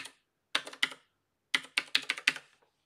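A password being typed on a computer keyboard, two short bursts of crisp, close key clicks separated by a brief pause, in an otherwise quiet room.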